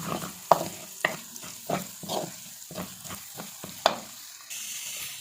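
Garlic fries in a pan, giving off short, uneven bursts of sizzle and stirring that come and go at close range, with no voices.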